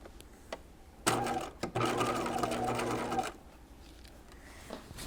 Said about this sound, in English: Now I'm going to sew these two pieces together.